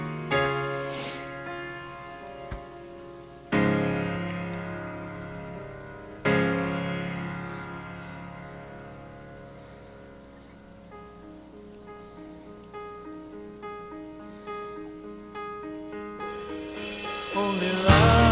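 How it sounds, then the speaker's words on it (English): A rain sound effect in The Who's Love Reign O'er Me hisses beneath sustained piano and synth chords, with loud struck chords entering twice and a louder wash of rain swelling at the end. "I love the rain effect."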